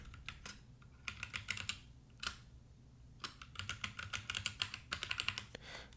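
Keys on a MacBook keyboard are tapped in quick irregular bursts while a password is entered, giving crisp close clicks in clusters with brief pauses, quiet and with no one talking.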